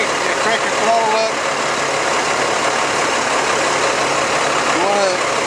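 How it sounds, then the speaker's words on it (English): A Vactor truck engine runs with the throttle cranked up, a steady, fairly loud mechanical drone with a hissing top, alongside faint brief squeaks. "do want to turn your throttle on so that you can engage everything and crank your throttle up"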